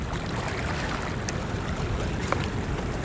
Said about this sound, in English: It's a little windy and you can hear the waves hitting the bank and everything.